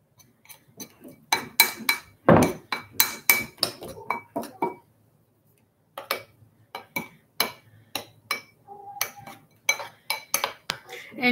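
Orange fluffy slime being mixed in a container, giving a run of quick clicking, tapping strokes in uneven bursts, with a short pause partway through before the mixing picks up again.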